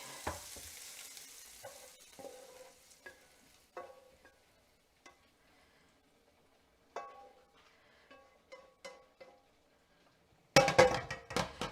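Sausage meat frying and being stirred in a pan, a soft sizzle with scattered clinks and scrapes of a utensil, quiet between strokes, ending in a louder burst of clatter.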